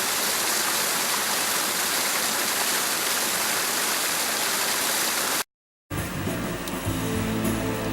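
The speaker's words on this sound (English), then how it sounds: "We are now driving alongside this lovely creek, and it has water in it." Water flowing in a creek alongside a road at Oregon Caves National Monument, a dense, steady rushing wash for several seconds, then a brief cut to a quieter passage with a different sound.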